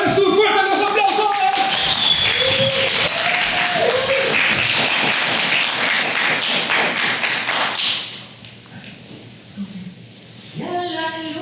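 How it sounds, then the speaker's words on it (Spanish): An audience applauds a storyteller of South American tales on stage in La Reina: loud, dense clapping with tapping thuds for about eight seconds, then it drops away, with voices briefly audible at the start and end. "¡Fuerte los aplausos!"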